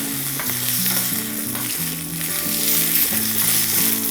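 Curry leaves and green chillies crackle and sizzle in hot oil for a tempering, a dense, steady frying hiss with no speech, continuing across the whole moment.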